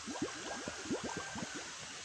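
Water is poured into a container for fishing, giving faint, steady gurgling and bubbling without any voices.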